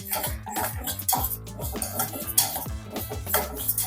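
Moong dal stirred while frying lightly in a pan for millet kaara pongal, busy clinks and scrapes of a metal utensil against the pan in quick rhythm, close and fairly loud, with no speech.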